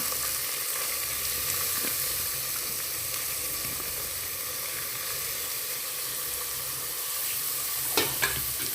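Lentils being stirred into rice in a cooking pan for sambar rice: a continuous hissing sizzle with faint steam, and a couple of scraping knocks from the stirring near the end.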